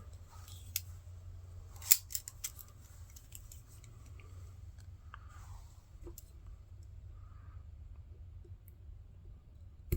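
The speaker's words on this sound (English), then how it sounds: "Go ahead and grab my multi-tool out of here." A multi-tool is handled near a low steady hum, giving off a few sharp metallic clicks and snips, the loudest around two seconds in, with fainter ticks scattered afterward.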